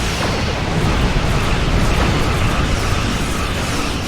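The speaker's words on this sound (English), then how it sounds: "Bring the 4 torpedo bays to bear. And fire!" Torpedoes firing and exploding in a space battle in the Star Trek Online video game, a loud, continuous roaring rumble of blasts with no clear breaks.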